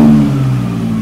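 A Mazda Miata engine with a slight vacuum leak revs in a brief, loud, close burst, a buzzy mid-pitched drone that eases off slightly after the first moment.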